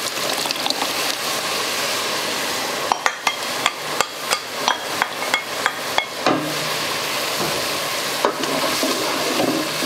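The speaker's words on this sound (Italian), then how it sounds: "adesso andiamo ad aggiungere la passata di pomodoro" Tomato passata poured into a hot pan over a wine-cooked rice base, with steady sizzling and frying, a run of sharp knocks and scrapes of a utensil against the pan, then a lower, bubbling sizzle.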